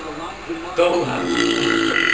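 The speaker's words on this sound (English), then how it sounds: "Man burps 100 times." A man lets out a loud, drawn-out burp that swells midway and carries on to the end, with other voices around him.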